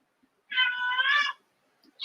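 A house cat meows in one drawn-out, wavering cry lasting close to a second, fairly near and clear in a quiet room, with the start of another meow cutting in at the end.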